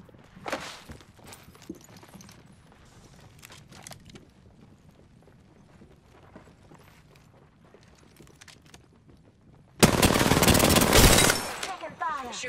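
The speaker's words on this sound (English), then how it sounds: "Taking fire! Shooter! Getting shot at." Gunfire in a video game: scattered quiet shots and footsteps give way to a loud, sustained burst of rapid automatic fire near the end, with a voice speaking in places.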